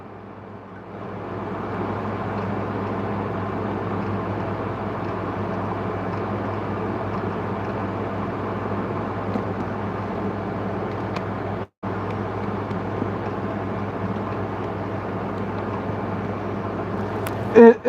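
In a flight video game, a craft's aircraft engines run at speed with a steady, droning mechanical hum that holds for many seconds, broken by one brief cut near the end, with no talking.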